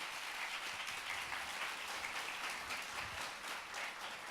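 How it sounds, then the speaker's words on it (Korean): A church congregation at a Sunday service applauds to welcome the pastor with steady, even clapping throughout and no voices over it. "우리 목사님 나오실 때 큰 박수로 환영하겠습니다"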